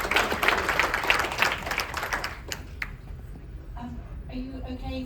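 Audience clapping at a lecture aboard a cruise ship, moderately loud for about three seconds and then thinning out, followed by a quieter stretch with faint murmuring.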